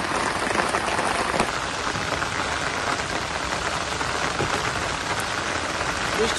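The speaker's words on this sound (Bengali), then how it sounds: "বৃষ্টি তো প্রচন্ড বাড়তেছে মনে হচ্ছে জোরে বাড়তেছে" Heavy rain pours down during a flood in Sunamganj, making a dense, continuous hiss and patter close by on surfaces and water, with no talking heard.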